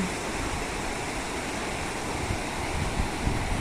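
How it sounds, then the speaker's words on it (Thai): A flooded stream overflows its banks and rushes downhill toward rice fields, a dense, steady roar of flowing water up close, with some wind buffeting and no speech. "น้ำก็จะไหลลงไปนะคะ แล้วก็ จะลงไปทางทุ่งนา"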